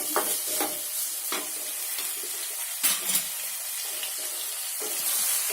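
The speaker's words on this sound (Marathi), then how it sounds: "हा बारीक चिरलेला टोमॅटो, आता हे व्यवस्थित आपण फ्राय करून घ्यायचं आहे।" Finely chopped tomatoes frying in a pan for Karwar-style squid masala, a soft continuous sizzle broken by several sharp scraping stirs, close and fairly quiet.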